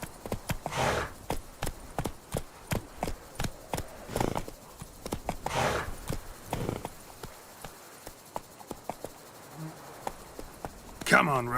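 Roach, a horse in the video game The Witcher 3, clip-clops at a slow walk through town streets, hooves striking in a steady rhythm. Someone speaks over the hoofbeats at points.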